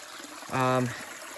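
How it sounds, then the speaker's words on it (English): Spring water runs off a rock beside a trail in a short, soft trickle that rises briefly and fades, with faint background ambience. "you want to get it flowing off a rock like this or on a waterfall"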